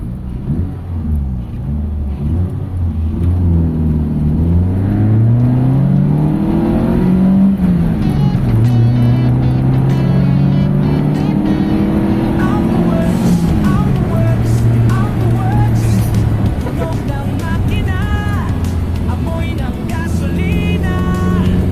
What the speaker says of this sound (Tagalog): ito test drive namin yung clutch upgrade na ginawa natin